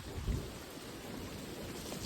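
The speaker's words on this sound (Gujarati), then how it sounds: "બાકી વરસાદ તો ભાઈ કન્ટિન્યુ ચાલુ જ છે, બંધ થવાનું નામ લેતો નથી." Steady, continuous rain on a waterlogged Gujarat farm after two days of downpour, a dense even hiss with a brief low rumble near the start and no voices.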